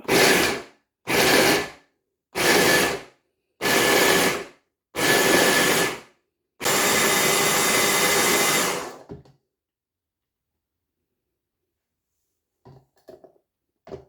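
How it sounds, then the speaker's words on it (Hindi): A blender whirs through a creamy kulfi mixture in five short pulses of about a second each, then one longer run of roughly two and a half seconds, loud and close, followed by near silence. "तो अब इसको दोबारा से थोड़ा ब्लेंड करते हैं।"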